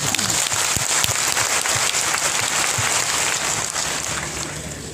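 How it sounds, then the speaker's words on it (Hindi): Sustained applause from an audience filling a hall, steady and loud across the whole stretch, easing slightly toward the end, with no voices heard above it. "अपने लिए जोरदार तालियां होनी चाहिए।"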